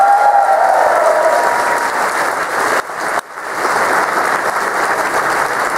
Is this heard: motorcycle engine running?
no